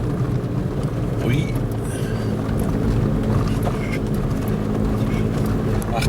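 A vehicle engine revs hard while driving through deep snow in a snowstorm, a loud, steady roar with wind noise throughout, and a man exclaims briefly over it.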